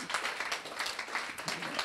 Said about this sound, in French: je veux bien qu'on commence effectivement déjà aussi par s'applaudir